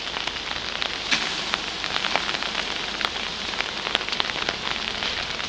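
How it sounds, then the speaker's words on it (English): Rain falls steadily outdoors near a beehive, a dense hiss of drops with scattered sharper taps on nearby surfaces, continuous and fairly close with no voices. "And because it's raining,"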